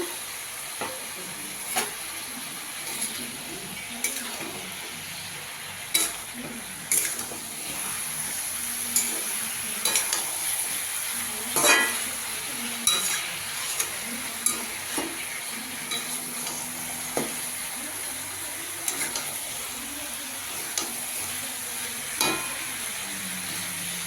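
Fish head and potatoes frying in a pan, a steady soft sizzle punctuated by regular sharp clicks and scrapes of stirring.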